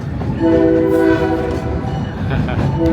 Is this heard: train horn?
yes